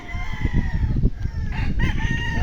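A gamefowl rooster at a game farm crows loudly and close by, one strained crow over a low background of farmyard rumble.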